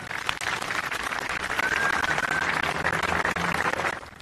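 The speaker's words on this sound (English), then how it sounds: "Please give these students a round of applause, please." An audience at a school spring celebration applauds students, a sustained burst of many hands clapping in a room that fades out at the end.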